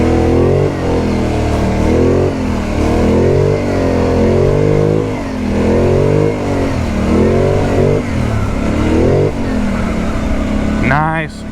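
A Polaris Sportsman 850 V-twin ATV powers up a sandy hill, its engine loud and close, revving in repeated rising and falling surges as it climbs.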